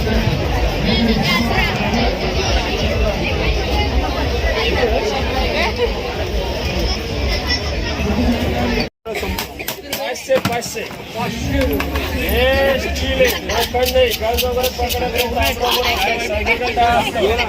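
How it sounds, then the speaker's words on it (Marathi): A dense, loud crowd murmur at a busy agricultural exhibition in Chiplun, with steady babble of many voices close around and people talking nearby, and a brief dropout midway. "तिसऱ्या दिवशी चिपळूणकरांनी तर खूपच गर्दी केली आहे"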